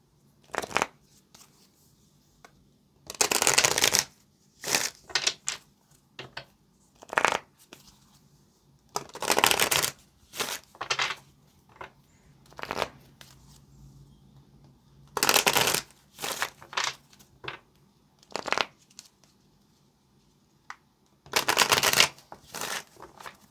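Tarot cards are shuffled in repeated riffling bursts, each a few seconds long, separated by quieter pauses with soft handling noises.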